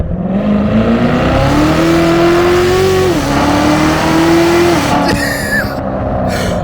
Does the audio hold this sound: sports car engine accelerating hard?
yes